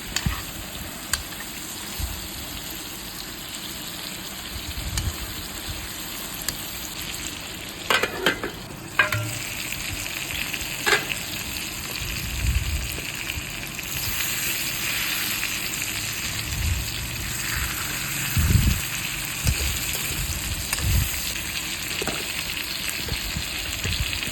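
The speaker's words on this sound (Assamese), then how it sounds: "অলপ মাছটো সিজি যোৱালৈকে ফ্ৰাই কৰি ল'ম" Eel fish pieces frying in a pan with ground coriander, a low continuous sizzle with occasional stirring scrapes and brief louder knocks, close and unaccompanied by talk.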